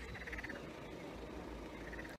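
Frogs croak steadily outdoors at a summer picnic spot, a dense continuous chorus with bright repeated calls rising briefly near the start and again at the end, no voices over it.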